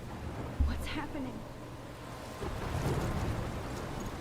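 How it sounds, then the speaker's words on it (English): A thunderstorm in the video game Life is Strange: steady rain hiss with a sudden thudding crack of thunder and a low rumble, under a speaking voice. "I'm trapped in a storm?"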